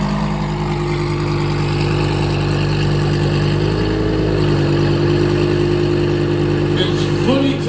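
Tuned Lamborghini engine revving loudly at a car show, a steady close-up roar with a strong droning tone that holds and rises briefly near the end.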